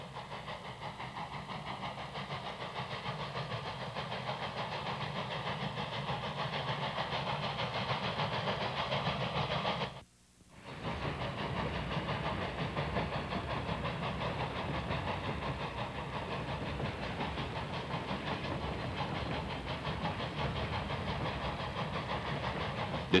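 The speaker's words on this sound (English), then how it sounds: "At Blevins, the engine works hard upgrade." East Tennessee & Western North Carolina (Tweetsie) steam locomotive working hard upgrade at Blevins, a steady, heavy rumbling roar that runs continuously, dropping out briefly once midway before resuming at the same level.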